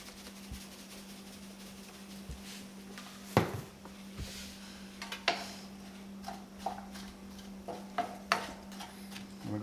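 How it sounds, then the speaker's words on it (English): Crawfish etouffee ingredients sauté in a pot with Cajun seasoning, a faint low sizzle broken by occasional clinks and scrapes of a spoon against the pot, with a steady low hum underneath and no talking. "We're going to let that saute for a while."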